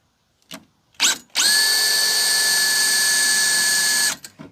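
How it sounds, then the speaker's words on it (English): A power drill drilling out rivets on a Chevrolet Astro van door whirs at steady speed for about three seconds, preceded by a couple of short bursts as the trigger is tapped, close and loud. "these are the rivets I've got to drill out"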